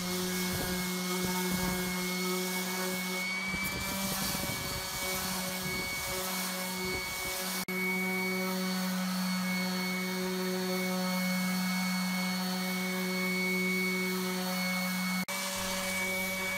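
A power sander hums steadily against PurpleHeart wood putty on a homemade exotic-wood bench vise, a loud continuous drone with scraping texture early on and brief pauses near the middle and end.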